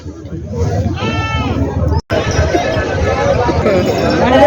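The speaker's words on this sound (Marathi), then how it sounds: "आज संपूर्ण शेळ्या आलेले आहेत" Goats bleat at the weekly Tuesday goat market in Vasmat, with one clear wavering bleat rising over a dense hubbub of crowd chatter and someone talking close to the microphone.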